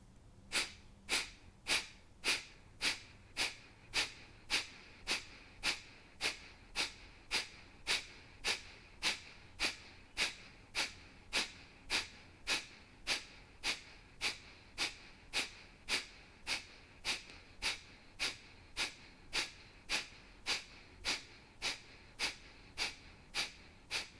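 Forceful rhythmic breaths during a glutes workout, sharp bursts repeating roughly every 0.7 seconds in a steady unbroken chain, close and fairly loud.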